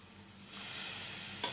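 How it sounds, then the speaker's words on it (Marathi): Water poured into a pan of sizzling masala with turmeric for ragda, a quiet sizzle swelling into a brighter hiss and fizz, close, with a sharp clink at the end and no talk. "त्याच्यामध्ये आपण हे पाणी टाकू"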